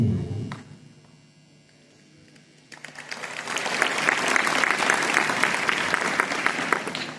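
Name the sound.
audience clapping at school speech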